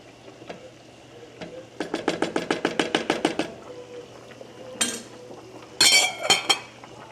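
Food stirred in a pot with a metal spoon, producing a fast run of about a dozen rhythmic clinks and scrapes, followed by a few louder, sharper clatters of cookware.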